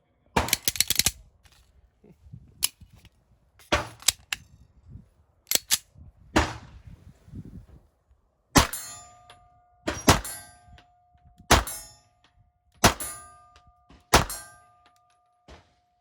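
Gunshots from a Sig MPX or STI Combat Master fired at a steel silhouette target 35 yards away, about ten sharp loud reports spaced a second or two apart, several followed by a distant ringing clang of steel.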